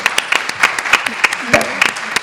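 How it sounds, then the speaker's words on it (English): Audience applause at a women's summit, a steady patter of many hands clapping at moderate volume, with a few brief voices mixed in beneath it. "I think she does deserve a round of applause, really."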